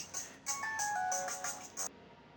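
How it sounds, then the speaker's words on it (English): An incoming-call ringtone on a phone plays a short, bright repeating melody of chirping notes that stops after about two seconds, heard at moderate volume without speech. "Literally start my stream and get a phone call."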